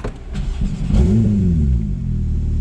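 A TECHART tuned Porsche Turbo S engine fires up nearby, then a rising rev sweeps up and settles into a steady, rumbling idle, heard alone without talk.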